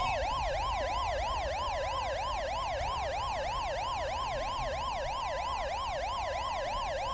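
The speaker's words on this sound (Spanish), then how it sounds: "¿Es la sirena de esta ambulancia?" Inside GTA V with the LSPDFR mod, an ambulance siren pulses in a fast, regular yelp. It sounds loud and close, unbroken for seven seconds, with no voices over it.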